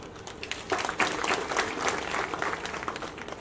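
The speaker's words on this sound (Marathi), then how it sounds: "अनेक टाळ्या पडणार आहेत कीर्तनात" An audience at a kirtan claps together in a dense, fairly soft round of applause that swells slightly midway and carries on steadily without any voices.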